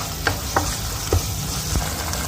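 Garlic ginger paste hits hot oil, which already holds whole chillies, and spits into a sizzle marked by a few sharp stirring knocks at an uneven pace.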